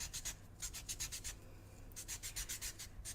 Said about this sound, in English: Just roll it as you're filing and it just cleans the previous colour off.